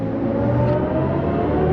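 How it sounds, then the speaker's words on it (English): Electric car with its artificial engine sound mode switched on, giving a loud, continuous synthetic whir and rumble as it accelerates, with no talk over it. "we've switched on the engine sound mode, which basically is going to make some weird Tron noise as we go"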